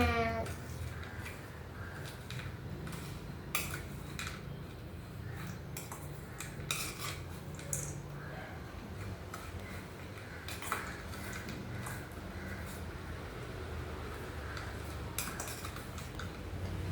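Coconut and country sugar worked together by hand for a homemade energy food, heard as soft, quiet scraping and repeated clinks of a spoon against a bowl, irregular and close, with no talking.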